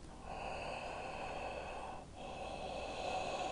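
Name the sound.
constricted-throat pranayama breathing, Darth Vader-like breath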